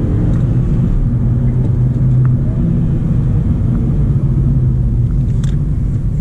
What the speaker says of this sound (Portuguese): Vamos dar uma aceleradinha na estrada aqui